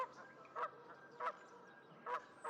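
Snow and Ross's geese honking at a wintering marsh, several distinct honks spaced about half a second apart over a low, steady background, moderately distant with no talk.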